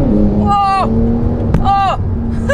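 A Porsche 911 Turbo S launching with launch control, revved to 5,000 RPM, then accelerating in rising surges with gear-change breaks, loud and close, while people talk excitedly over it.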